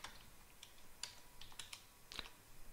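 Typing a command on a computer keyboard during network firewall configuration, a few quiet, irregular key clicks in a near-silent room.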